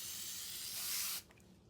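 A spray paint can hissing out a steady burst of paint for just over a second, close and loud, then cutting off with a short final puff.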